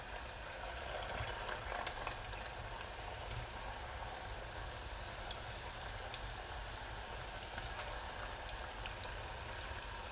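Food frying in hot vegetable oil over medium-high heat, a steady dense crackle and hiss like rain, fairly loud and continuous with scattered sharper pops throughout, no talking.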